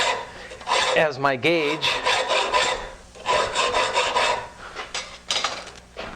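A hand file rasping a miter joint into bicycle rack strut tubing, repeated close strokes in a steady back-and-forth rhythm, with a brief spoken phrase early on.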